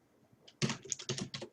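Someone types on a computer keyboard with a quick run of sharp, close clicks after a faint start.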